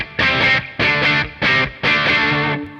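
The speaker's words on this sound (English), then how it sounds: "Let's go put it on a distorted channel. I have a light overdrive here." Four strummed electric guitar chords through a light overdrive pedal, each ringing briefly before the next, in a steady rhythm with short gaps between.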